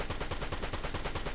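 Rapid gunfire in the Fortnite Battle Royale video game, a steady string of quick, evenly spaced shots that continues across the whole moment at a constant, fairly loud level.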